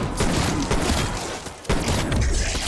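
Dense automatic gunfire rattles almost without pause in Call of Duty Cold War zombies mode on the Mauer der Toten map, loud and close, with a brief lull before the shooting resumes.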